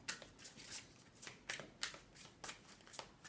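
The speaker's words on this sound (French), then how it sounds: "on va prendre une petite carte conseil" Tarot cards being shuffled and handled: a faint, close series of soft riffling swishes in an uneven rhythm.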